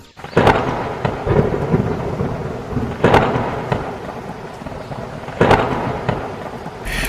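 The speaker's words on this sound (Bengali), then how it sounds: "কিছুদিন পর আবার বৃষ্টি নামল কালো মেঘ আকাশ ভেঙে পড়ছে চারিদিকে" Cartoon thunderstorm with rain: three loud rolling thunder cracks at spaced intervals over a constant wash of heavy rainfall, no voices.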